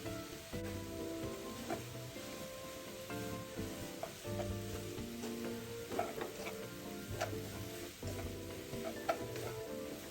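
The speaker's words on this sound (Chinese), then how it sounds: "炒匀后盖好，用文火焖个1分钟左右，将青木瓜稍微焖软就好" Green papaya filling stir-fried, then simmering in a covered pan over low heat, giving a soft continuous sizzle and crackle with occasional sharper ticks and spatula scrapes, fairly quiet and with no talking.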